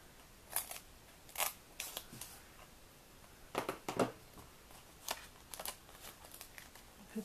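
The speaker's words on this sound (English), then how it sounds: "I'm going to cut some more foam squares." Scissors snipping foam squares for a papercraft card, a series of quiet, crisp close cuts in irregular bursts with short pauses between them.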